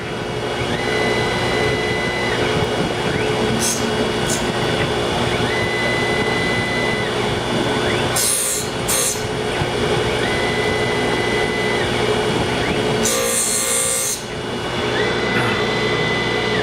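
A Tormach PSG612 surface grinder working CPM S90V steel produces a steady, loud whining drone with a constant tonal hum, broken by a few brief higher hissing bursts as the wheel passes over the workpiece.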